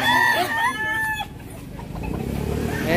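Chickens at a poultry seller's in Lipa, Batangas cluck and a rooster crows loudly up close, with busy squawking and overlapping calls filling the short stretch.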